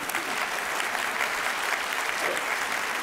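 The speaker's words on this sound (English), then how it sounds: "it's a shame that his church applauded that" A church congregation applauds in a continuous, full round of clapping from many people, steady and fairly loud across the whole stretch with a roomy crowd texture and no clear speech.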